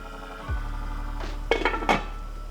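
A lid is set on a pan of cheesy beef pasta after stirring, giving a few faint metallic clinks over a low steady stovetop hum.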